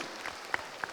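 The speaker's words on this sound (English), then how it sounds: "Give yourselves some applause for being a supportive and insightful community." An audience applauds at a junior debate showcase during the World Scholar's Cup Hanoi global round: a steady wash of clapping from many hands, fairly distant, with a few sharper individual claps standing out.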